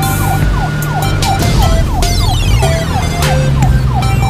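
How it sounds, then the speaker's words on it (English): A police car siren wails loud and close in a steady repeating up-and-down cycle, with no talking over it. "A blue police car."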